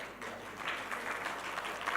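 Audience at a news forum award ceremony applauds the recipients, a steady moderate wash of clapping across the whole stretch, somewhat distant and diffuse.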